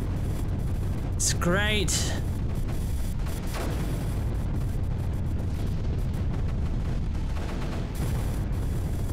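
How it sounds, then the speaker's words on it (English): Mortars firing in the strategy video game Creeper World, booming bursts over a constant low rumble, with a sharp whistling warble early on and a voice speaking briefly over it. "Seems that I have a lot of mortars doing their job over here"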